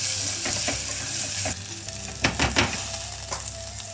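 Finely diced onion sweating in a pan, giving a loud, steady frying sizzle that drops a little partway through, with a few clattering stirs and scrapes near the end.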